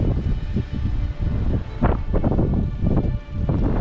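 Steady wind buffeting a microphone beside a pond at 1000 metres altitude, a low rumbling roar that swells and gusts throughout with no voices.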